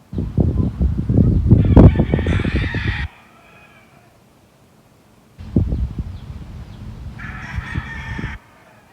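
Chickens in a summer vegetable garden, pecking tomatoes, cluck and crow in two loud bursts separated by a few seconds of near silence, with busy rustling underneath.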